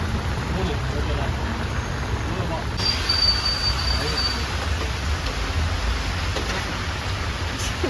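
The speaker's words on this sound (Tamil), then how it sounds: "நல்ல மழை." Heavy evening rain pours down steadily, a dense and even hiss that fills the whole stretch. Voices can be heard faintly under it.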